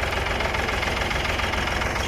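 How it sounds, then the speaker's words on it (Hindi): A tractor engine runs steadily while being driven, a loud, continuous low rumble with a faint knocking undertone lasting the whole stretch, with no talk over it. "ट्रैक्टर चला रहे हैं।"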